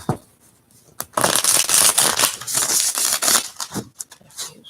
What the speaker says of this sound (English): I want to do one more shuffle.